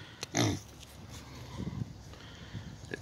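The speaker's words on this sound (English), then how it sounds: "Kind of get down here where the pig is." A pig in a backyard farm pen gives a few short, close grunts, one louder snort near the start, then softer snuffling as it noses around.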